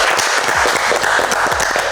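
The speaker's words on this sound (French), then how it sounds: "Gros applaudissements à vous deux" A studio audience applauds the two finalists at the season 2 grand final of the Kitchen Battle cooking competition, with loud, dense, steady clapping throughout.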